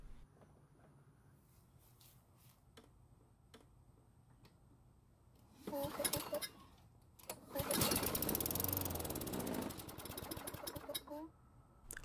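A discarded Toro lawn mower's small engine catches and runs for a few seconds, loud and rough at close range, then cuts out; quiet ticking comes before it.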